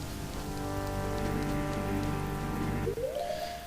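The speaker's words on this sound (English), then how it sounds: "And it's still raining even though I left." Steady rain falls in The Legend of Zelda: Majora's Mask, an even hiss of drops over a low game music drone that cuts off near the end.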